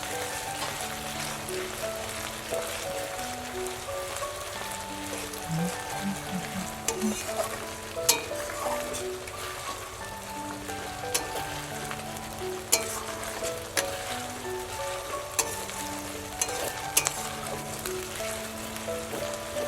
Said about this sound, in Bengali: আদাটা আমার একটু সময় জন্য কষানো হয়ে গেছে।